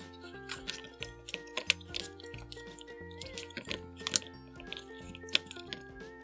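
Homemade slime tinted purple is squished and folded with pearl eyeshadow, giving soft wet squelches and sticky clicks in an irregular rhythm, quiet and close.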